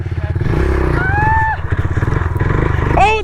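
A pit bike engine revs hard and steadily throughout a wheelie attempt, its buzzing drone continuous and close, with excited voices and shouts layered over it.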